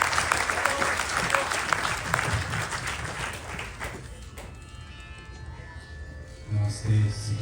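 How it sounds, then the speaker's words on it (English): Audience applause greets the officiating priest at a Ganesh Chaturthi festival gathering, loud sustained clapping that tapers off after about four seconds into quieter room sound and a brief voice. "Please give him a huge round of applause."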